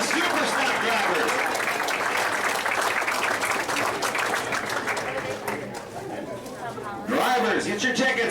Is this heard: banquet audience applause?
yes